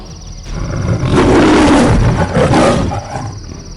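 A lion's roar used as an animated-story sound effect swells from a low growl into one loud, sustained, close roar, then fades back down; nothing else is heard around it.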